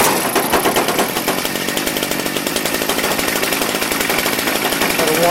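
A Redmax BCZ2460S two-stroke engine runs continuously while warming up, a loud, buzzing, steady rasp close by with rapid pulsing and no pauses.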